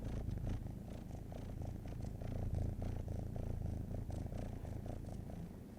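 A pet cat purrs steadily and close up, a continuous low rumbling throb that carries on without a break for several seconds, with no voices over it.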